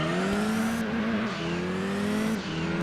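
Mitsubishi car engine in the Gran Turismo 2 video game, a loud continuous muffled touring-car roar that climbs in pitch, drops sharply at two gear changes and climbs again.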